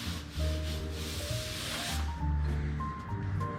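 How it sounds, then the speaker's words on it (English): Steady rubbing of sandpaper over Camaro Z28 body parts, a continuous close scratchy hiss with tonal hum and faint background sounds underneath. "how many of you are getting bored watching me sand?"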